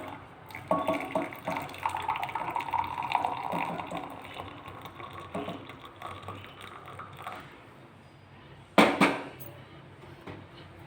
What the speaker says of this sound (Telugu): నేను వడకట్టకుండానే పోసుకుంటున్నానులేండి, మీరు వడకట్టుకొని పోసుకోండి.